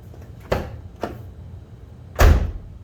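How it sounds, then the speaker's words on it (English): The door of a 1994 Ford Ranger gives two light clicks as it is opened, then closes with one firm, solid thump, all close by in a quiet space. "The door opens and closes without hitting."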